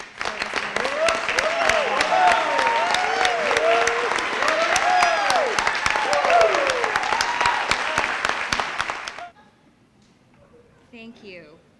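Audience applause at a wartime veterans medal ceremony, crisp individual claps mixed with voices and cheering for about nine seconds before stopping abruptly into near silence with a faint voice.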